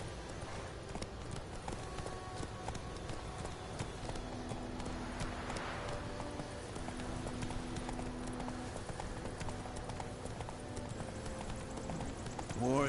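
Horse hooves clip-clop steadily in The Witcher 3 video game, a continuous rhythmic trot over a constant ambient bed, moderately close, with no talk.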